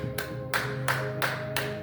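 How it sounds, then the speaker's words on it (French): A small church congregation claps during a French-language sermon, five sharp, evenly spaced claps close by with a low hum beneath. "Nous applaudissons pour la parole de Dieu."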